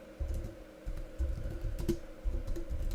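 Keys clack on a computer keyboard while a command is typed into a Minecraft command block, the strokes arriving in quick irregular bursts that sound close and fairly soft, with no voices over them.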